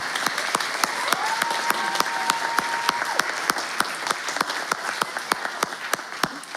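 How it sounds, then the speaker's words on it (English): Dense audience applause fills a Sunday service hall after a musical performance, steady overlapping claps running the whole time at a moderate, even level. "Let's give her another round of applause."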